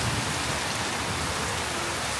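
Heavy rain pours down steadily at night during a thunderstorm, a dense, even hiss of water striking surfaces close by, with no distinct thunderclap in this brief stretch.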